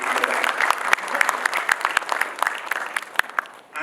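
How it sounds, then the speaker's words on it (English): Applause from the audience at a panel discussion: brisk, dense clapping with sharp individual claps standing out near the microphone, steady throughout and tailing off at the very end. "That should be the applause I will"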